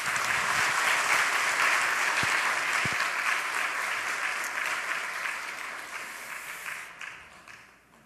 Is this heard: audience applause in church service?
yes